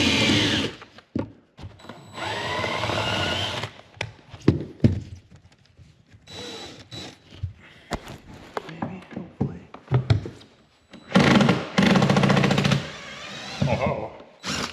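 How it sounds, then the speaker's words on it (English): A power drill whines in several loud bursts separated by pauses, drilling out rivets holding aluminum trim on a boat, with clicks and handling noise between the bursts. "it's all held in by these little rivets. So we're gonna have to drill those"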